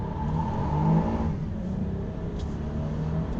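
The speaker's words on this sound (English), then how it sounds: "Going out for a drive review in the 2018 Toyota Camry XSE V6." Steady engine hum and road noise from a 2018 Toyota Camry XSE V6 on the move, with a brief rise in revs early on before settling into a smooth, moderate cruise.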